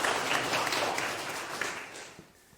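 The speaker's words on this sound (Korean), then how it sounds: "박수 한번 부탁드릴게요" Dense clapping rises from an audience at a lecture, fairly loud at first and then thinning and fading away near the end.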